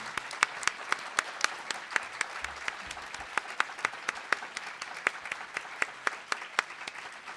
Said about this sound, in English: let's have some real applause here, people.